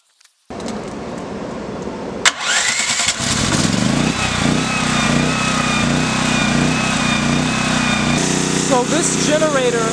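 A gasoline-powered generator rated at 10,500 running watts starts up with a sharp clank, then runs loud and steady nearby, and its pitch shifts slightly partway through under a constant droning hum.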